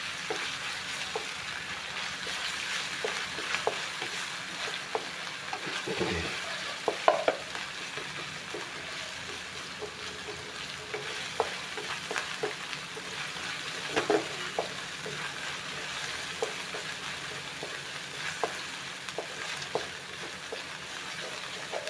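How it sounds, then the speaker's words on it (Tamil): Onions with ginger garlic paste sauté steadily in a pan, giving a continuous sizzle broken by the scrape of stirring, close and moderately loud with no talking. "அப்படி நல்லா பச்சை வாசனை போகிற அளவுக்கு நல்லா வதக்கணும்."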